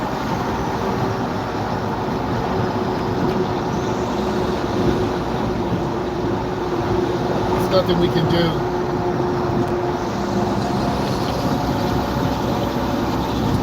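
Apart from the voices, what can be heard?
gravel truck driving nearby on road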